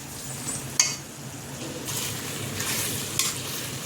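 Chicken fry is stirred in a hot pan with ghee, a steady loud sizzle broken by a sharp utensil click early on and a few scraping strokes, no voices.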